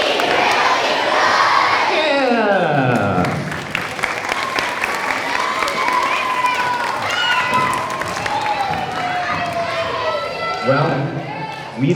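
A library audience at a yo-yo performer's show applauds and cheers, with loud sustained clapping and children's shouts. The crowd noise stays dense throughout, and voices and whoops rise over it.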